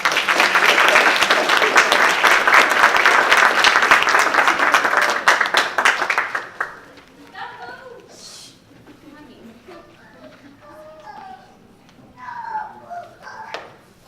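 An audience at a dental school ceremony applauds a student doctor coming up to give the welcome, with loud, dense clapping for about six seconds that stops abruptly, followed by people speaking at a microphone.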